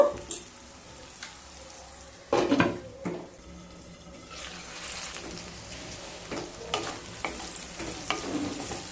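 Potatoes tossed with turmeric powder are stirred in a frying pan, giving soft sizzling with scraping and clattering strokes of a utensil against the pan, louder bursts mid-way, and no speech.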